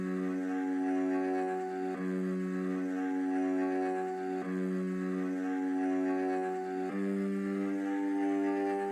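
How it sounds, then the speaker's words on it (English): A static string one-shot sample plays sustained root notes that follow a bass pattern, each chord held for about two and a half seconds before the next one enters, steady and fairly loud with no talking. "It's just a static one shot, and again, it's really just playing these like root notes"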